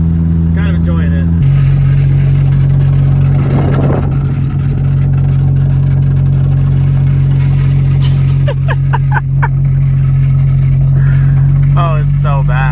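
An MK2 Jetta with its exhaust fallen off idles loudly with a deep, steady droning rumble throughout, swelling briefly around the middle, while voices talk over it near the start and end.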